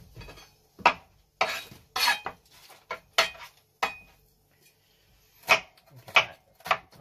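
A knife chops a white onion on a cutting board, giving close, sharp irregular knocks in short bursts with pauses between them.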